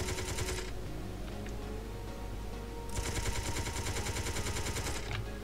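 Automated turrets firing in the space video game Space Engineers, dense rapid-fire bursts that rattle almost continuously with a brief lull mid-way, loud and close, no talking.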